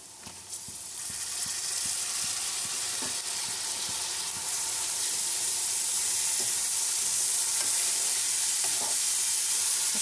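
Chopped tomatoes tipped into a hot pan for egg curry, a steady loud sizzle and frying hiss with the scrape and tap of a spoon stirring throughout.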